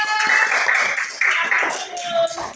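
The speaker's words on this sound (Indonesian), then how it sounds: "Tepuk tangan untuk mereka" A group clapping in scattered bursts while voices and cheering carry over the top, fairly close and lively.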